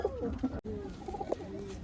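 Pigeons kept for sale coo close by, a series of short throaty coos broken by a brief dropout, with other birds calling faintly behind.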